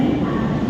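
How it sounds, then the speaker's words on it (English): Tejas Express train with a Vista Dome coach waiting at a station platform in Mumbai, a short burst of steady low engine hum and rumble with no voices. "I think that is the train."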